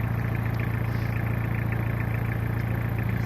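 A car engine fueled with used cooking oil in place of diesel idles steadily up close, a continuous low droning hum with no speech.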